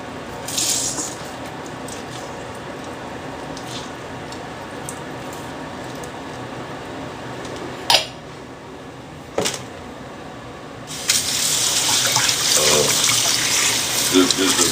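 Pulp is rinsed off under running tap water in a kitchen; quiet handling sounds and a couple of brief knocks come first, then a loud, close gush of water starts near the end.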